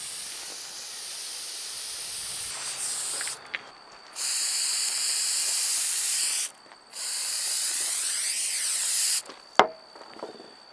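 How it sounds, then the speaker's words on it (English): Spray adhesive hisses from a can in three long, steady bursts separated by short pauses while gluing DIY sound absorption panels, with a sharp clack near the end. "we're going to spray the sides"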